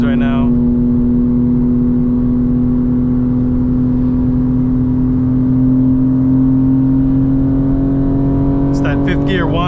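A car driving in fifth gear gives off a steady, droning gear whine under a constant low road rumble, with someone talking over it at the start and end.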